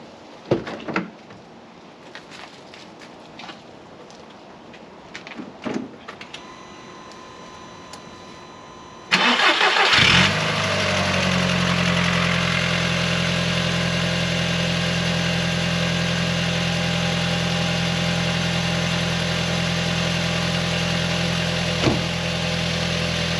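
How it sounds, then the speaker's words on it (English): An Audi TT MK1 1.8T engine, just fitted with a new oil pickup pipe, cranks and starts after some quiet clanks and door sounds, then settles into a steady, loud, close idle that continues to the end. "So let's start it all up now, and hopefully we've got no leaks after doing this."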